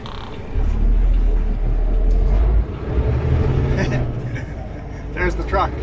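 A heavy crane truck rumbles past on a road near Bonners Ferry, Idaho, a loud low engine drone swelling and fading, heard from inside a passing vehicle with road noise and a brief hiss near the end.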